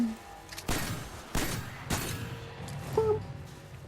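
Several heavy hand cannon shots in the video game Destiny boom in a slow sequence, each a sharp broadband blast with a short tail, followed by a brief whining tone near the end.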